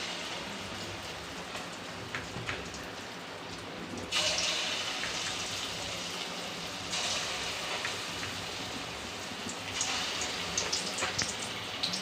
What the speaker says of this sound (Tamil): எண்ணெய் ஊற்றிக்கலாம். ஃப்ரெண்ட்ஸ், எண்ணெய் காஞ்சிச்சு. கொஞ்சம் கொஞ்சமாக போட்டு எடுத்துக்கலாம்.